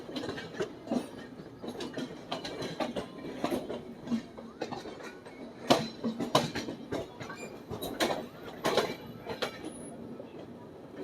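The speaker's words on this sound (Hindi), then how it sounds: "अभी ये जो ट्रेन अभी गुजर के गई है, ये थी मालवा सुपरफास्ट।" The Malwa Superfast express train passes on the Mathura–Delhi line, wheels clattering in a steady rhythm of rail joints with occasional sharper clacks, moderately close and continuous throughout.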